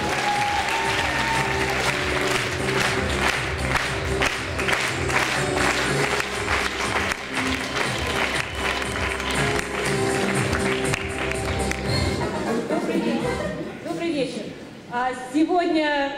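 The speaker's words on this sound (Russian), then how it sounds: "Под ваши бурные аплодисменты," Loud, sustained applause from an audience in a hall fills most of the stretch, dense clapping that thins out near the end as a voice begins speaking.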